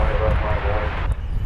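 Airbus A320 airliner arriving at DFW Airport, a steady broad engine roar rumbling in the distance beneath someone talking throughout.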